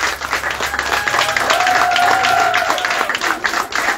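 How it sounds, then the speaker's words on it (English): A crowd claps and applauds steadily for several seconds, a dense patter of many hands, with a faint tone humming underneath. "give them a huge round of applause"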